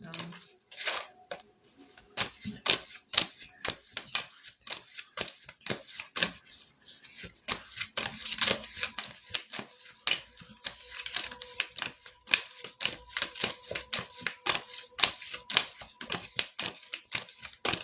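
Tarot cards are shuffled close up during a reading, giving rapid crisp riffles and sharp flicking snaps in uneven bursts. Some cards are made to pop out of the deck.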